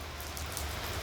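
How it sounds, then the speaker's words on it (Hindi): Steady rain falls in a broad, even hiss of dense droplets, fairly close and continuous, with no voices. "और बारिश हो रही है।"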